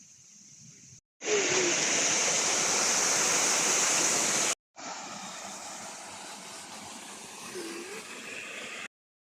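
A waterfall at Mac Mac Pools gives a constant, loud rushing roar, cut off abruptly twice and returning slightly quieter after the second break.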